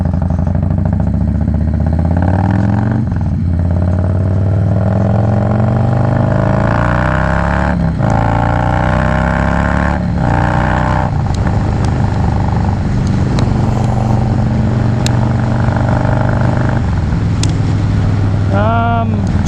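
A motorcycle fitted with a Vance and Hines Fuelpak 3 accelerates hard through several gears, loud and close, with rising and falling engine pitch at each shift and wind roar throughout.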